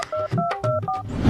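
A phone keypad dials a quick run of about five clear touch-tone beeps, evenly spaced and loud, with no voices over them.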